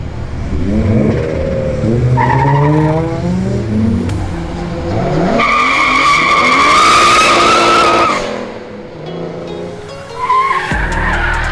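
A freshly resprayed two-tone car drives off hard, engine revving as it pulls away and tires letting out a loud, sustained skid squeal in the middle, then the engine fades before a sudden thump at the end.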